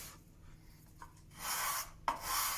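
A card scraper drawn across a wooden surface raises shavings in two short rasping strokes, the second opening with a sharp catch, each a close, hissy scrape against near silence.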